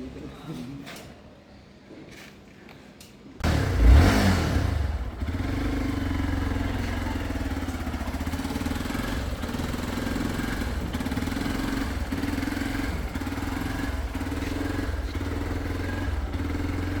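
A Hero Xpulse Rally Edition motorcycle settles into a steady, close, low engine idle after a sharp burst of sound, holding a continuous throbbing hum to the end.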